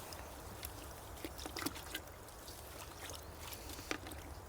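Chopped nettles stirred with a stick through a bucket of water at a winter allotment, a soft steady sloshing and trickling with a few light splashy knocks, faint and close.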